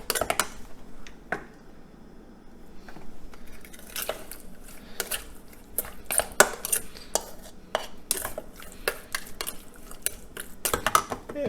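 Fish being mixed with Cajun seasoning, garlic powder and mustard in a bowl makes scattered clinks, scrapes and wet stirring knocks, irregular and close, with quiet gaps between them.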